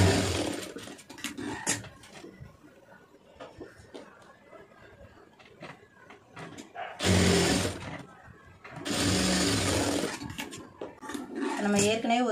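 Sewing machine stitching a shoulder seam on a net blouse, heard in two loud steady runs of rapid stitching close up, with someone talking between them.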